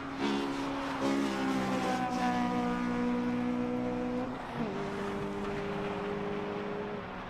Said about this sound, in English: It is nice to see these cars out on track right now.